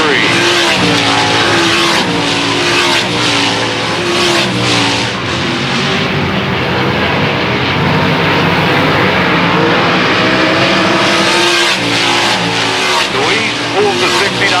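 Race cars circling a 4/10-mile dirt oval at Susky during a heat race, engines roaring and revving in a loud continuous drone that rises and fades as cars pass, with a commentator talking over it.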